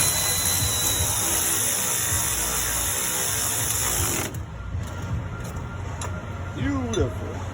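A socket wrench ratchets on a TRW power steering gearbox being repaired for a leaking input seal, its clicking mixed into steady workshop noise with a person talking over it.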